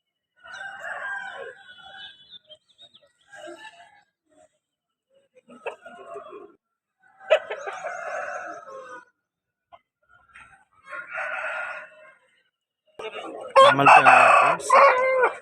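Roosters crow in bursts at a rooster market in Vijayawada, one after another with pauses between, one crow louder and nearer toward the end.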